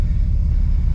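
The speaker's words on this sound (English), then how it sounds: "let's get inside and rev this thing and see if it made an improvement" A Nissan 350Z with an HR engine swap and a blown, clogged catalytic converter gives a loud, steady, deep engine rumble close by.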